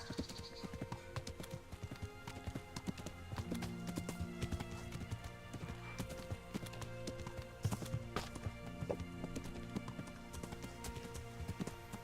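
Steady clip-clop of horse hooves trotting over rugged terrain in Kingdom Come, continuous and fairly close, with occasional snorts and faint game ambience underneath.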